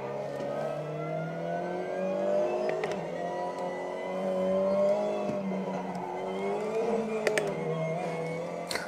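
Race car engine in a racing simulator game, a steady mid-pitched drone with rising and falling revs as the car drives onto the track, continuous and moderately loud throughout with no talking.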